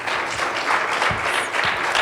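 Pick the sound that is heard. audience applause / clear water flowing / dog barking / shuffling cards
audience applause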